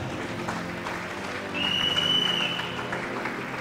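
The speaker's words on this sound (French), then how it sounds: "Acclame bien." A church congregation applauding during a sermon: dense, steady clapping from a large crowd that swells briefly midway, with a thin high whine above it.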